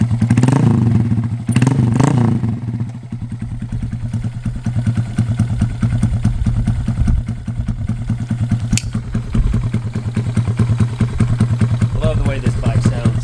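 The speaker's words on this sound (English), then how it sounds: "Love the way this bike sounds." A 2022 Honda Grom motorcycle idles close by with a steady, low, throbbing putter and a few small clatters, while a person talks briefly over it at the start.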